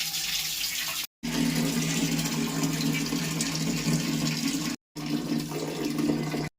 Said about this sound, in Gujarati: તો પહેલાં આમાં પાણી ભરાવા દેવું પડશે